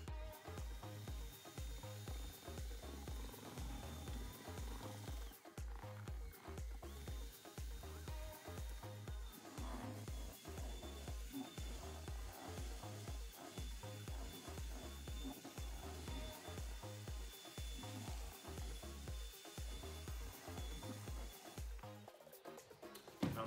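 Epoxy with pigments and hardener being mixed for a metallic floor, likely with a power mixer, a continuous motor whir with a rhythmic low thumping pulse that runs steadily throughout and stops abruptly near the end.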